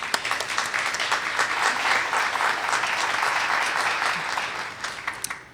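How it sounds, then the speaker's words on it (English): Sustained applause from a graduation ceremony audience fills the hall, dense and loud throughout before tapering off at the end. "please join me in a nice round of applause"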